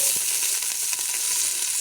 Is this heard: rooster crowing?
no